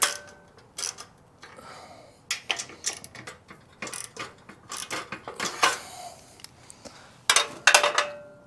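Close ratchet clicks come from turning the exhaust bolts on a Harley-Davidson Sportster. They fall in irregular bursts of rapid ticking with short pauses between them, and there is no talk.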